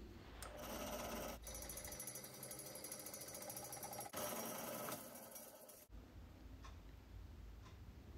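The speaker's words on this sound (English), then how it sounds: "Then I'm going to drill the 12mm hole for the gear shaft spline." A machine drill boring a 12mm hole in aluminium whirs with a steady, rapid rattling drone that cuts off abruptly partway through, followed by quieter workshop hum.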